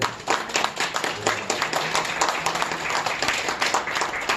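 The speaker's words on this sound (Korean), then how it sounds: "그럼 축하 박수 한번 해요" An audience at a prayer breakfast gathering gives congratulatory applause, with dense, sustained clapping from many hands throughout.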